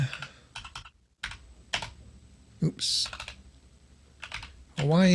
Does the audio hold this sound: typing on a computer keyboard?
yes